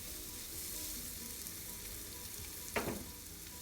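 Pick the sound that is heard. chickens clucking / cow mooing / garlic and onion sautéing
garlic and onion sautéing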